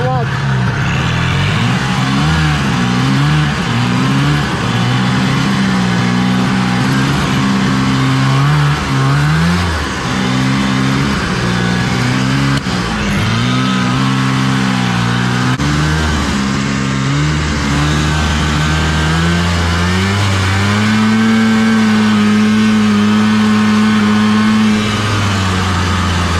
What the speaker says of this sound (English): I think we're ready to take her for a test ride